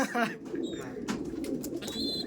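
Soft, low cooing from a Kaldom pigeon close by, a gentle murmuring call that carries on through the short moment.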